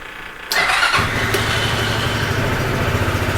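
A utility vehicle under repair, with its battery just reconnected, fires up: a brief crank catches into a steady, loud idling engine that runs on evenly and close by.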